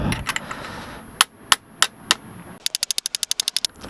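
Sharp metallic hammer strikes on a bearing being tapped into place on a Kawasaki KLF300: a few spaced taps, then a quick run of about a dozen rapid, even knocks, close and clear with no talking.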